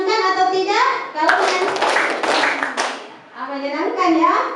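Children in a mathematics classroom clap their hands together in a loud burst of about a second and a half, with young voices chanting before and after it.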